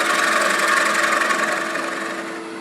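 A wood lathe whirs steadily as a tool cuts into a spinning live-edge walnut bowl, a loud continuous grinding hum that eases slightly toward the end.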